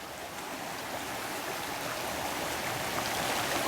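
Frog Creek water flowing at night, a steady broadband rush and gurgle from fairly close, constant and alone without talking.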